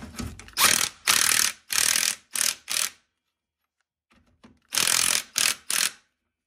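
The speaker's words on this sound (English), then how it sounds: "get ready to install the bottom bolt here, which is a 18 millimeter." Rapid ratchet clicking while tightening an 18 mm bottom bolt, several bursts of close mechanical ratcheting, then a pause with faint handling before two more quick bursts.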